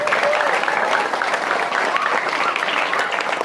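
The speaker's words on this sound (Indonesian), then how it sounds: "Tepuk tangan dulu biar dengar." Sustained audience applause at a religious talk, steady dense clapping from a crowd throughout, with faint voices mixed in beneath it.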